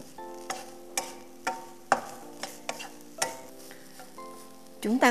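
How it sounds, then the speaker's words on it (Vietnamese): Shredded coconut being stir-fried in a pan for vegetarian coconut floss, with a series of sharp spatula scrapes and knocks against the pan over a faint sizzle, close and fairly clear, no talking. "Chúng ta cũng không có xào phần dừa này lâu quá."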